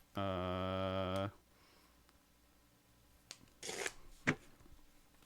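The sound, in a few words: riffle shuffling a deck of cards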